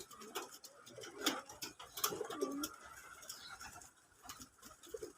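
Domestic pigeons on a country pigeon farm coo repeatedly at close range, soft irregular calls with a few brief clicks and rustles in between, and no talk.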